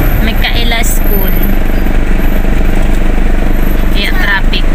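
Busy road traffic with motorcycles: a loud, continuous engine drone and rumble close by, with people talking over it throughout.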